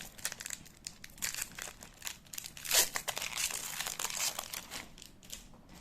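A Magic: The Gathering booster pack wrapper is torn open and crinkled up close, giving a continuous stream of crisp plastic crackles with a louder rip near the middle, and no talking.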